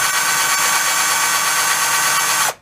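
A battery-powered grinder with a low battery runs at a loud, steady whine while grinding a fiberglass axe handle, then spins down and cuts off abruptly near the end.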